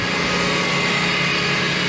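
A Subaru EZ30 3.0-litre flat-six boxer engine in a Legacy Spec B with a six-speed STI gearbox, running with a steady, even hum at constant loudness, no voices.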